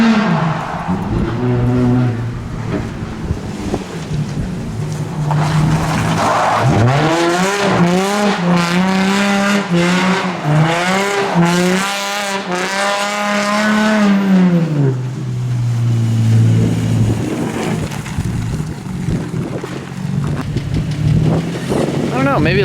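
BMW E46 drift car revving hard and skidding, with rising and falling engine pitch and long tire squeal through the middle stretch, heard from nearby outdoors with people talking over it.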